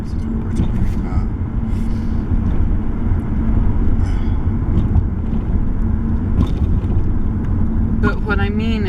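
Steady traffic rumble from cars driving past on a nearby road fills the whole stretch, loud and continuous, with people talking over the noise.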